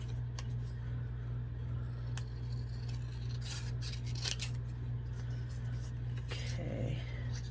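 Scissors trim around a playing card for a junk journal craft, a run of faint, close snips and paper rustles over a constant low hum, with a brief murmur of voice near the end.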